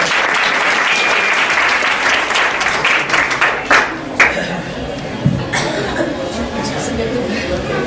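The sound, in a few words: audience clapping to welcome a speaker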